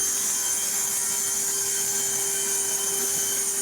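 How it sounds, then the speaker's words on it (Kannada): Digital cutting machine in an interior furniture factory slicing clamped plywood at an exact 90-degree angle, a steady loud whine with a sustained high tone running unbroken throughout. "ಸೊ ಇದು ಎಕ್ಸಾಕ್ಟ್ 90 ಡಿಗ್ರಿ ಕಟ್ ಆಗುತ್ತೆ ಈ ಮಿಷಿನ್ ಅಲ್ಲಿ"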